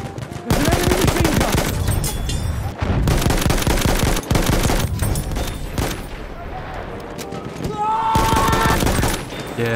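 Sustained, loud automatic machine gun fire from an enemy position in a video game, rapid bursts running almost continuously with brief pauses, dense and close, with a player's voice occasionally over the shooting.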